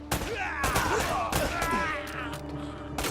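Gunfire in the action game Uncharted 1: repeated loud shots and bangs over a busy combat soundscape with whooshing effects, close and continuous, and a voice speaks at points.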